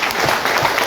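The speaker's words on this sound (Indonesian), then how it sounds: "Boleh tepuk tangan." A short burst of dense audience applause at an Indonesian political gathering in Malaysia with Anies, loud and steady clapping from a crowd.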